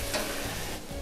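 Tofu and vegetables stir-fry in a pan with a steady, loud sizzle and scraping stirs throughout a brief moment, with no talking.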